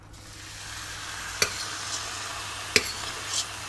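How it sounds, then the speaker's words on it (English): A tortilla for vegan birria tacos fries in a pan with a steady, rising sizzle, broken by two sharp clicks of a utensil, close and without speech. "I'm going to sort of try to put it on both sides and fry it"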